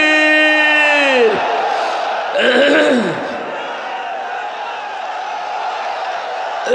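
A large outdoor crowd roars a takbir chant in unison, a loud sustained group shout following a held, pitched call from a single voice at a religious gathering on a parade ground.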